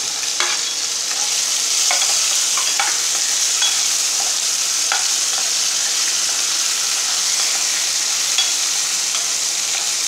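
Tomatoes fry in a pan for coriander chutney with a constant bright sizzle, broken by occasional soft clicks of stirring, close up and with no talking.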